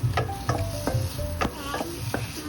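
Garlic and ginger sautéed with onion in a hot pan for chicken tinola, with a soft sizzle and a spatula scraping and stirring in several quick, rhythmic strokes, close and fairly quiet.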